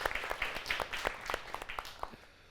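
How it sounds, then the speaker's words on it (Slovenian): An audience applauds at a live stage event, a soft, somewhat distant spread of clapping that fades toward the end. "Dajmo še en aplavz, prosim"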